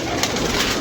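Pigeons cooing at a pigeon keeper's loft, a soft continuous murmur of several birds close by with no talk.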